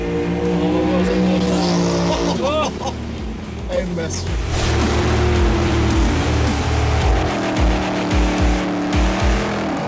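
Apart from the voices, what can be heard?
Tesla P90D accelerating in a drag race against dragsters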